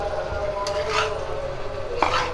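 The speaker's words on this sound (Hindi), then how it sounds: "अब ये मैकरोनी डाल देते हैं।" Macaroni tipped into a cooking pan, heard as a few quick rattling, scraping clatters over a low steady kitchen hum.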